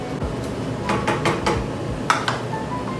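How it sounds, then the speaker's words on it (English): A spoon stirs tomatoes in a cooking pot in a culinary lab kitchen: a few soft knocks and scrapes against the pot, close and moderately loud, with a low background hum between them. "let's add our tomatoes. Okay, so I'll just stir this"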